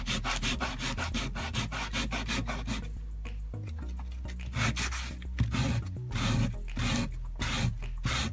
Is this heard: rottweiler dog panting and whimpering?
no